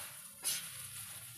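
A short, quiet sizzle and stir of amchur and garam masala in a hot pan, with a brief scraping swish in the middle over a low steady frying hiss.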